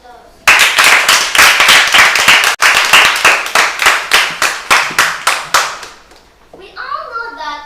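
Audience applause at an event on child-friendly justice in Africa: a steady burst of many hands clapping, loud and close, with one brief break. It tapers off near the end, and faint voices follow.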